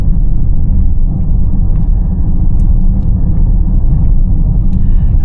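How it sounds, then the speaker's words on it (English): Cabin of a Mercedes-Benz GLE Coupe 400d diesel cruising on the road, a constant deep rumble of engine and road noise with a soft whir above it, no talking. "The diesel engine is not rattly and too loud."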